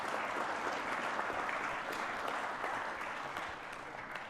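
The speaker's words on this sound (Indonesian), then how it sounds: "Nah, ini boleh tepuk tangan dong." An audience at a presidential address in the palace breaks into steady, dense applause, many hands clapping continuously at a moderate distance, easing slightly toward the end without talk on top.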